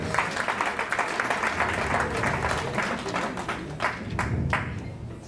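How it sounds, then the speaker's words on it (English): An audience at an old students' association gathering claps in a dense, continuous round of applause, fairly close, with scattered voices in the crowd and a few louder individual claps near the end. "Please give them all a big round of applause"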